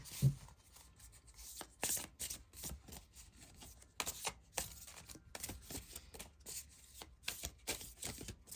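Oracle cards from the Oracle of 7 Energies deck being shuffled and drawn, with a steady run of soft papery riffles and flicks punctuated by sharper snaps, close and fairly quiet, no talking.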